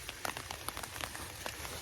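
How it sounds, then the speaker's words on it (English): Light rain patters steadily on an umbrella, with scattered sharper drops tapping over a soft, continuous hiss. "It's just rain, like a light rain."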